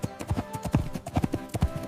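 A horse's hooves clip-clop in a quick, uneven rhythm of sharp hollow knocks, up close and fairly loud, with no voices over them.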